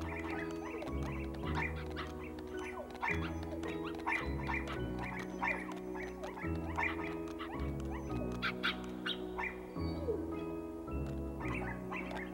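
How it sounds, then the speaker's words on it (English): A crowd of puppies in the Kingdom Hearts video game yips and barks in a busy overlapping chorus over looping background game music, with no pauses. "Look at all the puppies."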